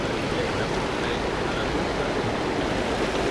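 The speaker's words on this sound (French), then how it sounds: "On n'entend rien avec la rivière." A river flows loudly nearby during a trout fishing outing, a dense continuous rushing roar of water filling the whole stretch with no voices heard over it.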